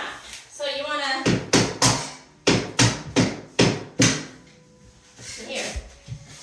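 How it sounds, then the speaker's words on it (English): A soft hammer pounds luxury vinyl plank flooring into place in a boy's room, about eight sharp, dull thumps in quick groups, close and loud, with brief talking before them. "now we gotta pound this one down, okay? So we use a soft hammer"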